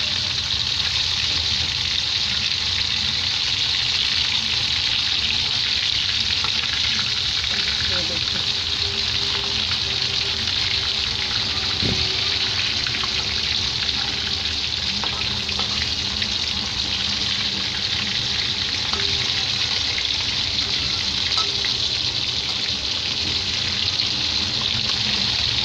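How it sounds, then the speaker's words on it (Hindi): Pieces of rohu fish sizzle in hot oil in a pan, giving a steady, even frying hiss that carries on at moderate loudness through the whole stretch without speech. "तो चलिए हम इसे सुनहरा होने तक तल लेते हैं।"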